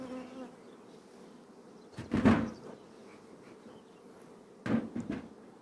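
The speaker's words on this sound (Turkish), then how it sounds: "Arı şu anda gevene de konuyor. Bu at kuyruğu dediğimiz çiçeğe de bayağı konuyor şu anda" Honey bees buzzing outdoors as they land on milkvetch and horsetail flowers to gather pollen, a faint steady hum with two louder passes as a bee flies close by.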